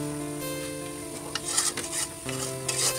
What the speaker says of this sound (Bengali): এখন একটু মশলাটা কষিয়ে তারপরে এখানে আমি খাসির মাংস অ্যাড করে দিব